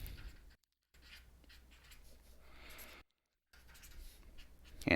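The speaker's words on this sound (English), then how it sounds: "So I'm going to write blue rectangle area." A pen or marker writes on a surface during a math area lesson, a faint continuous scratchy stroking close by with two brief silent gaps where the writing stops.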